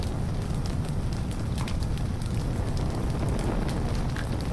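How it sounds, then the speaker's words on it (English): In the game Little Inferno, a burning globe makes a dense, steady roar of fire with crackles and faint pops throughout, loud and continuous. "The globe is on fire!"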